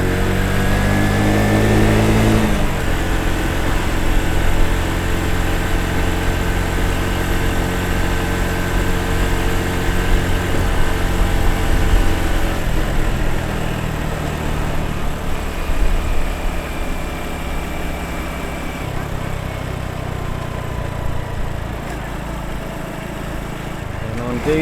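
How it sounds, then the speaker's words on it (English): A 2013 Honda Super Cub 110cc motorcycle rides through narrow streets, its small engine droning steadily and close with shifting pitch throughout, while a person talks over it. "riding around through these narrow streets on a moped."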